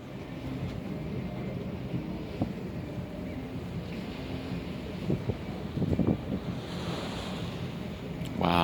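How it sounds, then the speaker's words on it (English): Waves slap against the hull of a casino boat at sea, a steady rumbling wash with wind buffeting the microphone and a few louder splashes near the end. "I don't know if the camera's picking up the waves hitting the boat."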